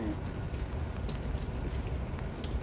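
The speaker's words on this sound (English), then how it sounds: "Where'd the rain come from all of a sudden?" Sudden rain falls outdoors at an evening vigil in Washington DC, a dense, steady patter and hiss close to the microphone with no pauses.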